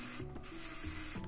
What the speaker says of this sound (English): I mark and turn a decorative feature into the side of the head.